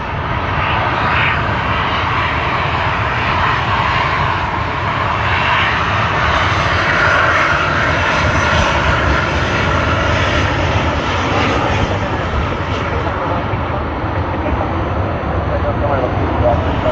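An airliner takes off at Sydney Airport, its engines giving a loud, steady, broad roar that holds for about seventeen seconds. A voice is faintly audible beneath the engine noise.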